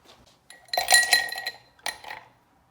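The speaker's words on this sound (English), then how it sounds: "And I'm gonna get a little bit of ice in my glass." Ice cubes clink and rattle into a cocktail glass while a pineapple whiskey fix is being made, giving a close, bright burst of clinks followed by a second shorter clatter.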